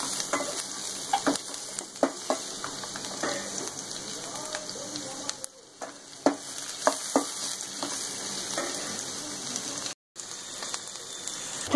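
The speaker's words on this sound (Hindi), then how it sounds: "इन प्याजों को हम बिल्कुल सुनहरा नहीं करेंगे, थोड़ा सा ट्रांसपेरेंट होने देंगे।" Onions frying in a pan for paneer bhurji give a steady close crackle and sizzle, broken by scraping stirring taps and a brief pause, with no talk.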